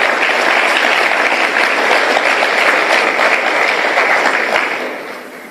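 Loud, dense audience applause during a political gathering in Jamaica, sustained clapping that fades toward the end.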